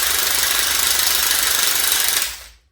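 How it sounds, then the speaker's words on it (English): A power drill enlarges a hole in metal during a single turbo kit install, a loud continuous rough grinding whir held for about two seconds before winding down to silence. "I think I have to drill out this hole a little bit more"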